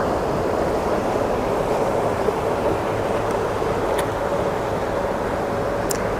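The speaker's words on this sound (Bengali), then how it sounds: "এখানে দেখুন ভৌম জলটা কিভাবে বের হচ্ছে মাটির নিচ থেকে।" Groundwater spring gushing up from under the ground at Verinag, source of the Jhelum River, a steady broad rush of water running without pause, with wind noise on the microphone and no talking.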